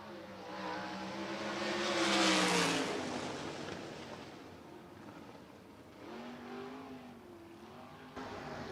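A number 24 Chevrolet race car roars along the back straightaway of a speedway, its engine note swelling loudly as it nears and passes, then fading before a second, quieter car sweeps by.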